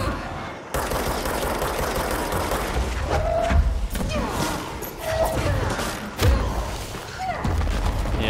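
Explosions boom in the action game Control amid rapid gunfire-like bursts and heavy thuds, dense and loud throughout with a few sharper blasts standing out.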